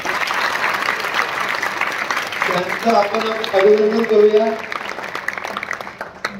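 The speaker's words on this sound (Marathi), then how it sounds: "त्यांच्यासाठी जोरदार एकदा सगळ्या टाळ्या वाजवा सगळ्यांनी" An audience claps loudly for prize-winning students at a school award event, a dense burst of applause rising under a voice speaking over a microphone.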